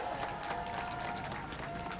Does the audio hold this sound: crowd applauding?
yes